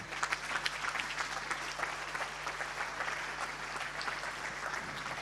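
Audience applause at a Paralympic sports gala in Veneto after an award announcement, a dense, sustained crowd of clapping from a large hall, fairly distant and even throughout.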